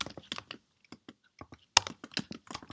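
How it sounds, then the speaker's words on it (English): Keys clack on a computer keyboard in a quick, irregular run of close, crisp taps with brief gaps. One sharper strike comes near the middle. "I'm gonna type console.log"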